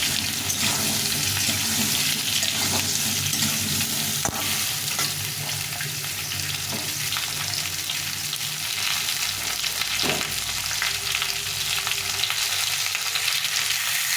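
Peeled green mangoes for pickle fry in hot oil with a loud, steady sizzle that fills the whole span, broken by a few stirring scrapes and clinks close by, with no talk.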